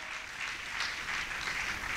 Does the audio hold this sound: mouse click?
no